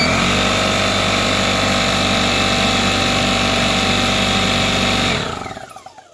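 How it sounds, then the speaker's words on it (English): An air compressor powered by a 2000W REDODO inverter runs steadily with a loud mechanical hum and whine, then abruptly cuts out near the end and winds down into sputtering silence. "then start the compressor, because that's got a huge surge"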